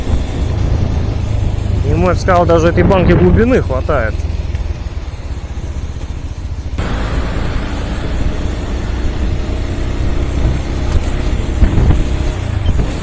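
A Regulmoto Alien Monster 300 motorcycle engine hums steadily while riding over a bumpy road, heard under a rider talking, with wind buffeting the microphone throughout.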